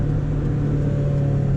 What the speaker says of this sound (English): Oh, just purrs. Nice little rasp out the exhaust. It's all stock exhaust and it just sounds really nice.